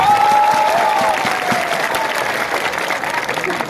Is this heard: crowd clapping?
yes